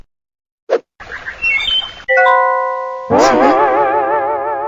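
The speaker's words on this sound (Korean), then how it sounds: "새들의 얘기 소리가 들리는 거야?" Cartoon folk-tale scene with bird sounds: a short chirp, then a run of bright tonal calls and a warbling, trilling birdlike song that swells and holds loudly to the end, with no talking.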